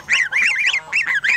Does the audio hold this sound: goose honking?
yes